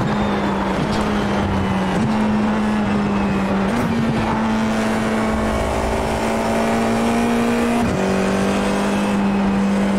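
Formula 4 iR-04 race car engine in iRacing at Rudskogen, a loud steady high-revving drone with upshift dips and brief pitch drops around two, four and eight seconds, running continuously with no talk.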